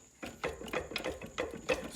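A hand ratchet loosens the top header bolts on a Honda Civic. Several quick bursts of clicking run in a row, fairly close and moderately quiet, with short pauses between strokes.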